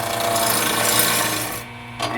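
A wood lathe spins as a gouge cuts the corners of a square wood blank, giving a loud, continuous rough grinding chatter that drops off abruptly near the end.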